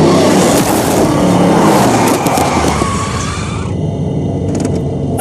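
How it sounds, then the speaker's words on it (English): Car from the game Alan Wake driving fast down a coastal road: loud, steady engine roar and road rumble with a squealing tire tone, easing slightly toward the end as higher noises fade. "I'd been driving too fast down a coastal road to get there."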